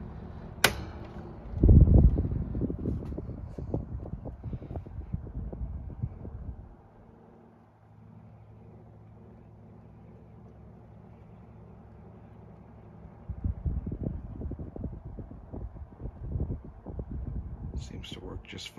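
A Galaxy 12-inch oscillating fan, model 2150 in amber, hums steadily with a low, even drone. A faint, quieter stretch sits in the middle, and louder rustling handling noise comes at the start and end.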